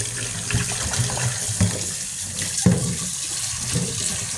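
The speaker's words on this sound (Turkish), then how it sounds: "Soğuk sudan yıkayacaksın." Cold tap water runs steadily into a sink while eggs are rinsed under it, a continuous close splashing hiss with small shifts as the stream strikes the shells; no one speaks.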